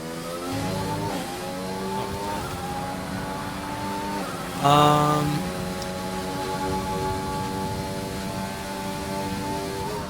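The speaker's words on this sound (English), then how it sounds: "there's this glitch with the engine sounds" Glitched race car engine sounds from a racing video game at a Singapore round: several overlapping steady engine drones with stepped pitch shifts, plus a brief louder burst midway.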